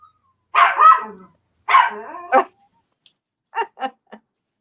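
A pet dog named Sandy gives several close, sharp barks in short bursts, with a few softer yips trailing off afterward, no talking over it.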